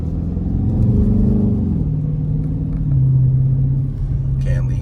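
A car engine rumbling loudly from inside the cabin as the driver shifts down, the low engine tone dropping and settling across several steps, with a brief higher sound near the end.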